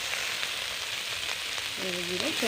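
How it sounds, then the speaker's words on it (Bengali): Ground cumin paste frying with tomato and ginger in a pan, a soft steady sizzle with light stirring, close and fairly quiet, with a brief voice near the end. "জিরেটা ভাজা একটু নেড়ে নিই একসাথে।"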